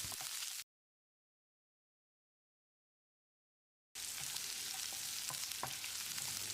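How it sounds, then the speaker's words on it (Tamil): Onions sautéing in a pan for sambar, a steady close sizzle with a long silent gap partway through. "வெங்காயத்தை கண்ணாடி பதத்துக்கு வதக்கிடலாம்."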